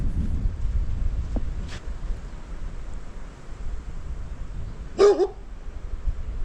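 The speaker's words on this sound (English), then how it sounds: "Such a cute dog." An old dog outdoors gives a single short bark near the end, with a faint sound earlier, against steady wind rumble and long quiet stretches.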